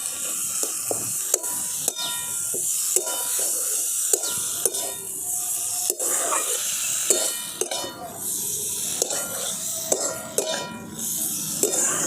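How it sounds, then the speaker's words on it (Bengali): A spatula stirs boiled potatoes and spices frying in a pan for a Bengali potato curry, making regular sharp scraping clicks over a soft continuous sizzle. "এবারে মশলাগুলো আলুটা সারাতে ভালো করে কষিয়ে দিই দেখুন"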